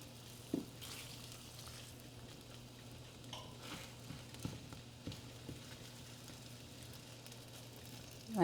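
Cheese for a bacon, egg and cheese bagel fries quietly in a pan: a faint, low sizzle with scattered soft clicks and taps, and a slightly louder knock at the very end.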